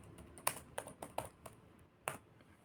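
A handful of light, irregular keystrokes on a computer keyboard, quiet and close, with short gaps between the taps and no talking.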